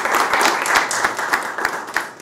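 An audience at an employees' society meeting applauds, a dense wash of many hands clapping at close to moderate distance with a few louder claps standing out, and no talk over it.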